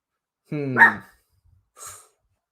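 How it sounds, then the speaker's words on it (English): A dog gives one loud, close, harmonic bark, followed after a short pause by a softer breathy huff, with no talk around it. "Was that a bark in agreement or disagreement, Charlie?"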